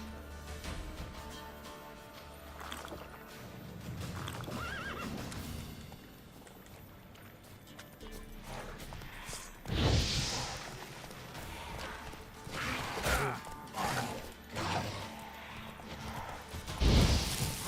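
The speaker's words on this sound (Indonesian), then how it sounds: "Kuda sialan, lu ngapain muter-muter di situ?" Horse in The Witcher 3 clopping at a steady trot under game ambience, with a few louder thuds and bursts standing out near the middle and end.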